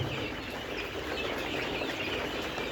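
Nineteen-day-old Nourish layer chicks in a poultry shed make a continuous dense chorus of cheeping and clucking from many birds, with no talk.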